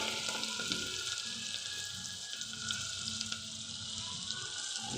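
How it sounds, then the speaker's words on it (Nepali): Onions go into hot oil with browned garlic, ginger and cumin, producing an even, continuous frying hiss with faint clinks, heard close and steady throughout. "अनि त्यसपछि प्याज हाल्ने है, त्यसपछि हाम्रो प्याज जान्छ"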